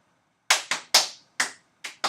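Six sharp hand claps in a quick uneven rhythm, close and crisp, with silence between them.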